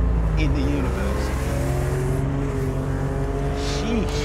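A Lister Bell STR kit car, a Lancia Stratos replica, drives with a continuous engine drone and shifting revs, under someone speaking throughout.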